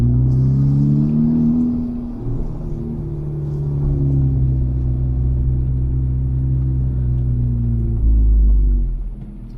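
A manual-transmission car drives along in second gear, its engine giving a steady low rumble with shifting harmonic tones and a brief rise in revs near the end, heard close and without any talk.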